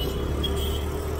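A car moving along an open road just past a market area in India, a steady close engine and tyre rumble with continuous road noise and no talking.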